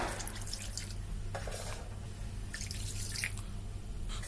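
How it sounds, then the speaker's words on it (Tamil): Water, partly leftover chicken-boiling stock, is poured into a pot for cooking basmati rice, heard as faint, close splashing bursts over a low background hum. "அதனால நான் 4 கிளாஸ் வாட்டர் சேர்த்துக்கிறேன்."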